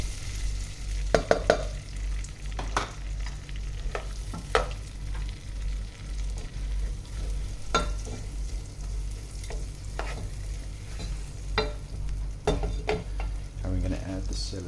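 Onions softening in melting butter for a low-carb beef stew, giving a low steady sizzle broken by intermittent scrapes and clicks of a spoon stirring the pan.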